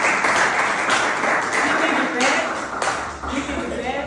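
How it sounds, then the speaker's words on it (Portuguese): A church congregation claps together during a service, a loud dense burst of applause with a few sharper individual claps standing out, tapering slightly toward the end. "Aplauda Jesus"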